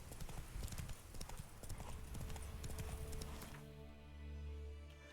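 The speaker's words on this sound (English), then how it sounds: "Whoa there, Roach." Rapid clip-clop of a horse's hooves trotting in the video game Witcher 3, dense and steady over game ambience, then the hoofbeats stop and a sustained low droning tone takes over near the end.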